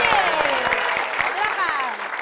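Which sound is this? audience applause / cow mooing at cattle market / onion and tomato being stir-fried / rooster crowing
audience applause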